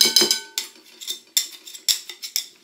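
Spoon or spatula working dense, compact mascarpone around a bowl, giving a series of close, irregular clinking scrapes against the sides, about seven distinct strokes with short pauses between.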